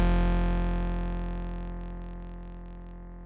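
Analog synthesizer bass built from three oscillators, sawtooth and a sine dropped three octaves, holding one sustained grinding, buzzy low tone that slowly fades, with a faint rhythmic ticking pattern entering on top halfway through.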